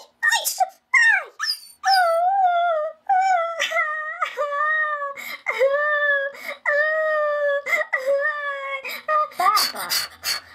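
Cartoon puppy in Peppa Pig howling and whimpering, a long series of loud, high, wavering cries close by, rising and falling in pitch and ending with a brief noisy burst.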